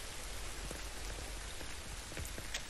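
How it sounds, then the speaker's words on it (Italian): Steady, dense rainfall pelting surfaces in The Division 2, a constant wash of drops with scattered close splats, loud and unbroken with no voices. "Voglio solo togliermi da questa cazzo di pioggia."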